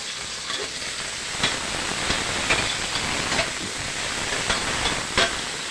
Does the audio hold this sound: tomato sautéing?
yes